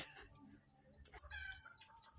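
Jungle fowl calling in a forest, a faint distant clucking and crowing call amid quiet woodland ambience, with soft bird activity in the background.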